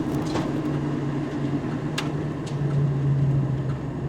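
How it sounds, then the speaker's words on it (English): A 1988 Ford Mustang Saleen convertible fitted with headers, an H-pipe and Flowmaster mufflers gives a steady, deep exhaust drone while driving, close and even throughout with a faint tonal hum. "It has a nice aggressive sound with the headers, the H-pipe, and then the Flowmasters."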